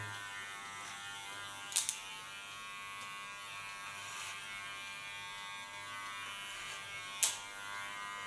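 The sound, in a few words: electric hair clipper shaving side of head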